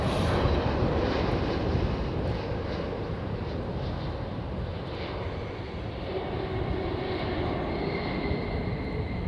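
Jet airliner with CFM56 engines arriving on runway 09, a steady loud broadband engine roar with reverse-thrust rumble running throughout, no voices.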